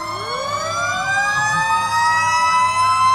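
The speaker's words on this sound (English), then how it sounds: "And of course they're playing Christmas carols on their horns" Fire truck horns and siren ring out in a holiday parade of lights, a loud tonal wail sweeping upward and then holding steady and harmonic, with no voices.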